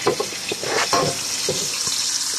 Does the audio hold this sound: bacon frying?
yes